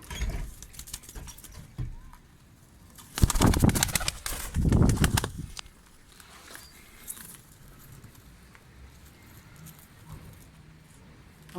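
Pigeons in a loft, tumbler birds, giving two loud bursts of wing flapping close by, separated by a brief pause, with quieter shuffling and rustling before and after.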